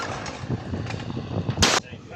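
A single sharp gunshot fired at an outdoor shooting club in Gabala, Azerbaijan, cracking out loud and close, with people talking nearby before it.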